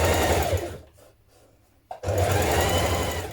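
A sewing machine stitches a winter coat in two loud, close bursts of fast motor whir, separated by a quiet pause of about a second, with no talking.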